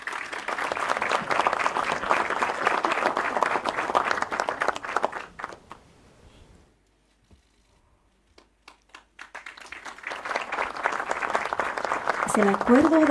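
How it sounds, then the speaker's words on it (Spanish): Warm applause greets the presidents of Bolivia and Brazil at an official agreement signing, a loud sustained ovation that fades into a near-silent pause before clapping swells strongly again. "Un caluroso aplauso, hermanos y hermanas."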